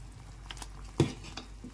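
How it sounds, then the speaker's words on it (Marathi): Drumstick curry simmering in a cooking pot gives soft bubbling and sizzling, with a sharp utensil tap near the middle and a few lighter knocks, close by and without talking. "आपली भाजी किती छान उकळत आहे"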